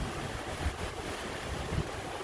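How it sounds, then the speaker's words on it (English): Waves churn and rush steadily at the aft of the cruise ship MSC Divina as it sails away from Port Canaveral, mixed with constant wind buffeting the microphone, with no talk. "Sailing away from Port Canaveral."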